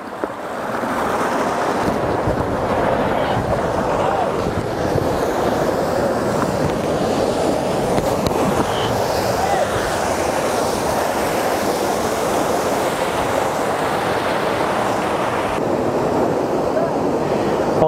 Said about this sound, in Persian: میبینین که به صورت طبیعی آبشار از بلندای کوه در حال فرو ریختن، چقدر صدای آب زیبایه